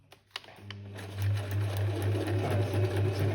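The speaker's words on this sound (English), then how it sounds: "Now you're going to do continuous stitching." Sewing machine running a continuous stitch, starting after a few clicks and settling into a steady, rapid whirring hum with a regular pulsing rhythm close by.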